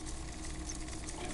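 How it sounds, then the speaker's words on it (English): Static hiss and mechanical whirring from a spinning magnetic tape reader in Disco Elysium, a steady, dense noise texture with a low rumble beneath, continuous and unbroken throughout. "Violent static and machine sounds fill the air."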